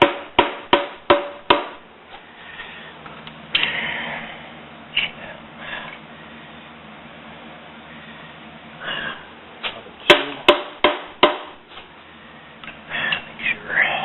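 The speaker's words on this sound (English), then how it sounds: "As we're tapping down, we take a look, make sure the rod's going where it's supposed to" Piston and rod being tapped down into the bore of a 440 engine block: clusters of sharp, close knocks in quick bursts, separated by quieter stretches of faint shop noise.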